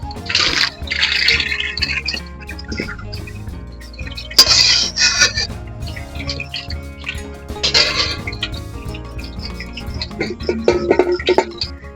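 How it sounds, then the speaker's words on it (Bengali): Boiled earthworms are strained through a perforated basin, with water splashing and draining in several bursts alongside metallic clinks of the bowl, close and fairly loud. "এখানে আমি একটা ফুটো গামলা নিয়ে নিয়েছি। তো এখন আমি ছেঁকে দিচ্ছি।"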